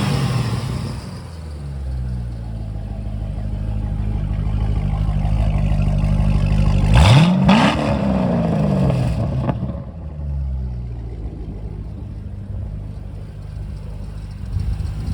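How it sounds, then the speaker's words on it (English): A 430 horsepower LS3 V8 out of a 2008 Corvette C6, run on its own, idles roughly and then revs sharply once, rising to a loud peak before falling back to a lumpy idle, with no talking. "Go ahead and rev it up here."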